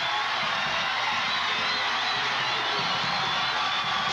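A stadium crowd at a 1990 high school football game between Mesa High and Mountain View roars and cheers steadily, a broad wash of distant voices and whoops filling the stands.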